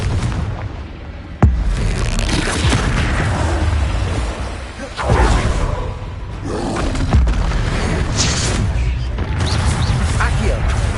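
Confringo fire spells burst in the Hogwarts Legacy video game, several booming blasts, the sharpest early on, layered over continuous game combat noise with a voice speaking.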